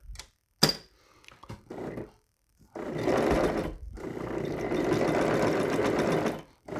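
Sewing machine running a lock stitch through webbing on a quilt storage bag, starting with short bursts and then stitching in long steady runs, close and fairly loud.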